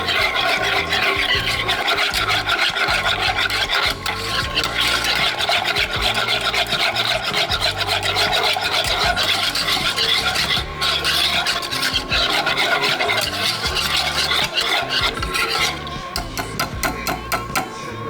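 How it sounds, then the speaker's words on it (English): Pumpkin spice syrup is whisked in a pot on medium heat, giving a close, loud, continuous fast scraping and rattling of the whisk against the pot, with brief dips in the rhythm and no voices. "we're gonna whisk it and bring it to a boil on medium heat."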